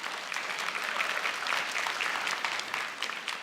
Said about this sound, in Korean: 한 박수 주세요.